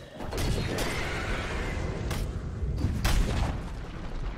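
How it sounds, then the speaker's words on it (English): A tower collapsing in the video game Dota 2, a deep booming crash and rumble with a few sharp impacts, loud and dense amid ongoing battle effects. "Dire's middle tower has fallen."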